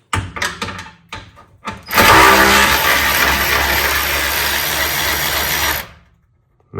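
A compact impact wrench backs bolts out in the tight engine bay of a Can-Am X3 side-by-side: a few sharp clicks and taps, then one loud, steady whirring, hammering burst of about four seconds that cuts off abruptly.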